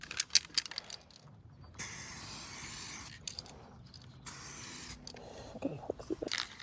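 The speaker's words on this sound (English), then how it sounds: "Before you apply the clear coat, you want to make sure that it looks okay and is spraying evenly." An aerosol clear coat spray can fires two test bursts into a cardboard box lid, each a hissing spray lasting about a second, with rattling and handling clicks in between.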